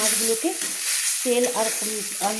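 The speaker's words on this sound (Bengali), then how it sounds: "গরম তেলে পেঁয়াজ এবং লঙ্কার সঙ্গে আমি মাছগুলোকে ভেজে নিচ্ছি" Fish fry in hot oil with onion and chili in a kadai, giving a continuous bright sizzle and hiss with occasional stirring and faint melodic tones underneath.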